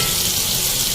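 Chickpea curry (cholay) sizzling loudly in separated oil as about half a cup of water is added, a dense, continuous hiss and spatter close up with no voices.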